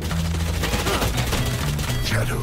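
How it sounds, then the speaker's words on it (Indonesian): Gunfire in the tactical shooter Valorant, a dense rapid volley of shots and impacts over a continuous game soundscape, loud and close throughout, with a player talking over it. "Gue nembak 40, dia gak nembak."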